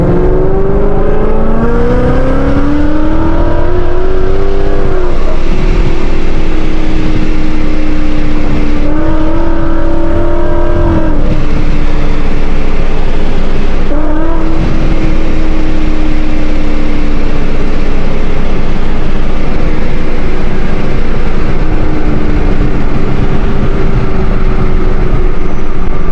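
A supercharged Ford Mustang engine runs loud and close in a steady, throaty drone, with its pitch swelling and easing as the revs shift, dominating throughout.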